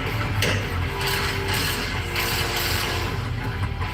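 Clicking ratchet and metal mechanism noises from tightening the longer U-bolts over tapered blocks on a truck's rear suspension lift, close and fairly loud over a steady mechanical background, with no talk.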